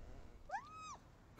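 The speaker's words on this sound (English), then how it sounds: "I can let the kitty cat out." A single cat meow from a Christmas Stories: Nutcracker hidden object puzzle game, rising then falling, heard clearly on its own against a quiet background.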